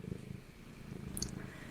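A cat purrs close by in a low, steady rumbling pulse, soft and continuous, with a faint high chirp near the end.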